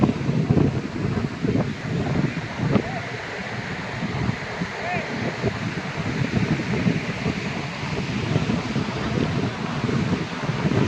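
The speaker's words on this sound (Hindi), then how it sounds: "बहुत मस्त हवा चल रही है।" Night wind blowing at the seaside near Puri, Odisha, a steady broad rushing roar with buffeting on the microphone, continuous and fairly loud, with faint indistinct voices beneath.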